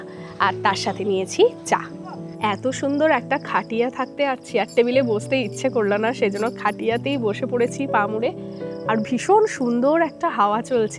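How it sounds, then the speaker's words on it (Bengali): Faint crickets chirp in the evening countryside near Kolkata beneath a woman's steady, continuous talk, with a gentle breeze in the background. "ঝিঝির ডাক শুনতে পাচ্ছি"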